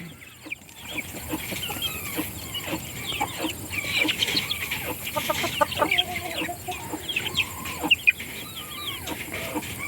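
Chickens from two small flocks mixed together in a mobile coop and run, clucking and calling continuously at close range, with several louder squawks.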